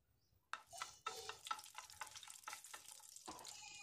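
About ten cashew nuts roasting in a tablespoon of ghee in a hot pan, a soft steady sizzle broken by stirring scrapes and taps.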